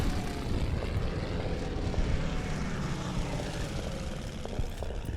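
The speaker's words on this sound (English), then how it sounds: "We got our bomber here." A bomber's propeller engine drones steadily in the Order of Battle Pacific strategy game, a continuous broadband aircraft hum holding level throughout with no talk over it.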